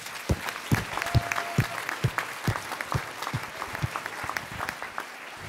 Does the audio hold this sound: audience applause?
yes